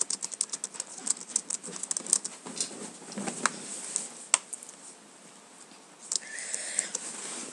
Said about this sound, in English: I'm going to type some.